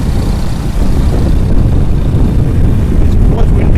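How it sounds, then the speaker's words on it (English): Strong wind roars into the microphone while riding a motorbike along a road through dense jungle in West Bengal, a loud continuous buffeting rush that covers everything else. "It's too much windy, so I can't do much vlogging now."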